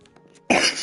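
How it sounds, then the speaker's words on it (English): A single sharp human cough bursts out loudly and abruptly after a brief stretch of quiet, faint game-like background sound. "I don't mean to cough"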